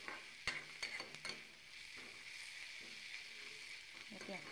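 Onions sizzle in a frying pan with salt, with sharp clicks of a spoon stirring against the metal at the start and end over a steady, close hiss.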